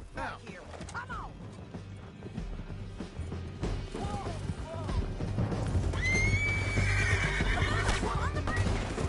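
A horse whinnies several times over hooves and a rumbling game soundtrack in Red Dead Redemption 2, with raised voices and clatter in the background.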